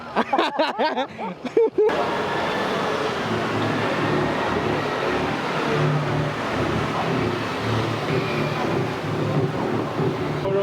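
Aprilia SR GT 200 scooter engine running steadily at close range after a brief burst of voices, a continuous broadband drone with engine hum that holds level for the rest of the time.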